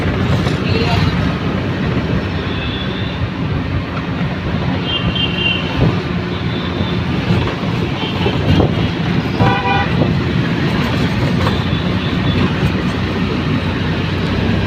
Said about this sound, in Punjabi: ਉਹ ਮੈਟਰੋ ਲੋਕਲ ਟ੍ਰੇਨ ਆ ਗਈ